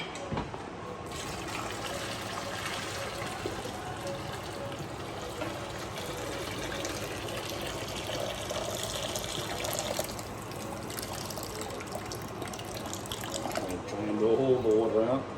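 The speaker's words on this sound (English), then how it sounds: "Okay, now I'm going to drain the water." Water drains from a pot of cooked noodles, a steady rushing pour and splash that runs continuously and swells near the end, with a voice speaking at the close.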